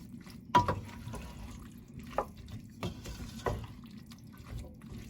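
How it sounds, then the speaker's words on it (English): An empty tin of diced tomatoes with herbs and spices is rinsed with water in a kitchen, giving soft sloshing, trickling and occasional clinks of the can, fairly quiet and close. "I'm just rinsing out the can."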